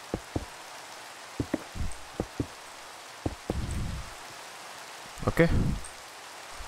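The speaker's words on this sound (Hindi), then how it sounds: "बारिश हो रही है, देखो कितनी मस्त लगती है इस मॉड पैक में, बारिश बहुत ही मस्त लगती है।" Rain falling in a modded Minecraft world, a soft steady hiss under the gameplay with scattered sharp game clicks and someone briefly speaking.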